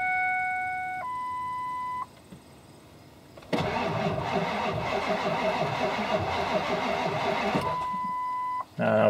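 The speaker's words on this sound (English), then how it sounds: "So there's a cold start from yesterday." A 2001 Ford F350 diesel truck cold-starts after a couple of warning chimes, its engine catching and running roughly for about four seconds before cutting off, with more chimes following.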